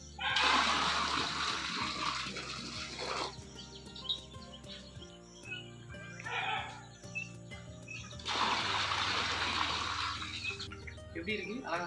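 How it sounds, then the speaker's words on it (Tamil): Water splashes and pours into a small play tank built for ducklings, two loud gushing bursts near the start and end with quieter trickling between, faint bird chirps in the background. "தண்ணி ஊற்றிடலாமா? ஊற்றுங்க."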